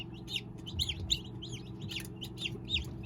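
Newly hatched day-old chicks peep in a busy cluster, with quick, high, repeated chirps overlapping in an irregular rhythm, fairly faint over a low steady background hum.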